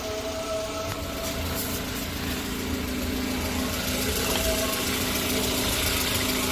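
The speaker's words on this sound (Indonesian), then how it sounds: "setelah kita lakukan hidupkan mesin" A car engine idles steadily during an oil change, heard from underneath the vehicle: a continuous mid-pitched rumble with faint knocking and vibration, holding at an even level with no speech.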